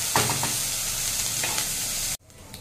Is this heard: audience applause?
no